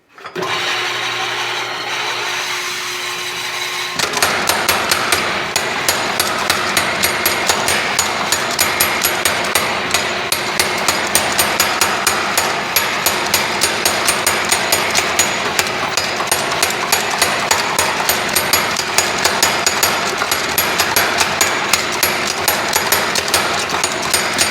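Power hammers forging metal in a smithy, with 88 lb, 50 lb and 30 lb machines: a brief motor hum, then loud, fast, evenly spaced mechanical blows pounding on close up without a break.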